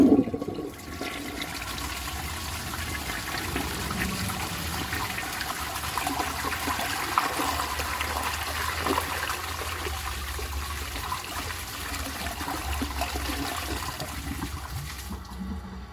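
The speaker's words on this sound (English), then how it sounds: "So let's give this a flush and see how it does on tests." A 1960 Crane Oxford toilet flushing, a loud close rush of water that starts abruptly and continues as a steady, gurgling stream and refill for the full length, with no talking.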